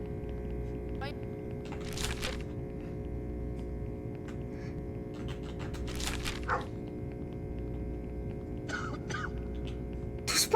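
A few short dog barks from a video game ring out at scattered moments, fairly faint, over a steady electrical hum that runs throughout.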